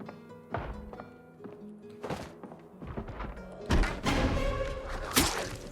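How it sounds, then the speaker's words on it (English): Heavy thuds and knocks bang from an upstairs room in the zombie survival game Project Zomboid: several loud, irregular impacts, some close together, building to harder, denser blows near the end. "Very worried about where this banging noise is coming from."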